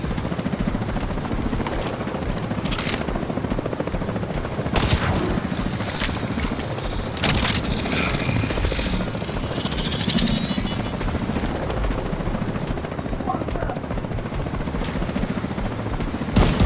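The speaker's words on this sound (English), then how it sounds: "Man, they're quick with the helicopters today." A helicopter flies overhead in The Division 2 at Coney Island, its loud continuous rotor thudding throughout, with sharp bursts of gunfire cracking over it.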